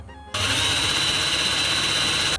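A drilling machine bores holes for a homemade cable stripper, starting abruptly into a loud, steady high-pitched whirring whine that runs evenly for about two seconds before cutting off.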